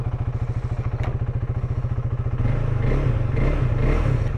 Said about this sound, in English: Start the engine, feels pretty nice and smooth.